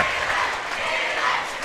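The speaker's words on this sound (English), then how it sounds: "The girl, her fellow teammates cheering her name" Teammates cheer and applaud for the girl who just won a basketball three-point shootout tiebreaker, a steady, close crowd roar that holds at one level the whole time with no distinct words.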